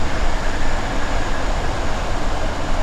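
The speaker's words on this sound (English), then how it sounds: "as you can hear that train driving by us, it's the whooshing of the air" A DB BR442 Talent electric multiple unit in Train Sim World 2 passes by with a loud, steady rushing whoosh of air and rail noise that stays even for several seconds, with no talking.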